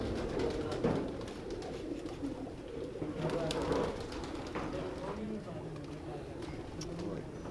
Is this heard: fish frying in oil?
no